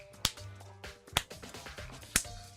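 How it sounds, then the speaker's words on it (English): Three sharp, slow claps about a second apart, standing out over a steady background hum and low game music. "The claps definitely showed up on OBS"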